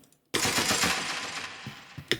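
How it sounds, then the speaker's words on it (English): A rapid burst of sampled gunshot sound effects from a producer's sound kit rattles out loud and dense in a music track, trailing into a few scattered single shots at the end. "So I put on the gunshots from the Peerborn sauce kit,"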